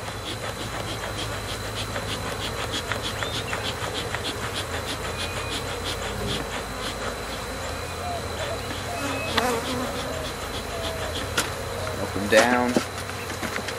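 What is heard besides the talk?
bees buzzing from a hive being smoked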